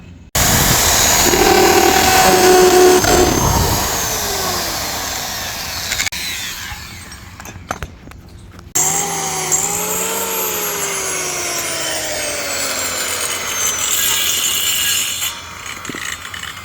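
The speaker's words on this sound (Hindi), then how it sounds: "ये बांस इससे काट लिया मशीन से" A power tool cuts bamboo. It gives a loud continuous whine and buzz that drops away, sputters, then restarts and runs steadily close by until the end.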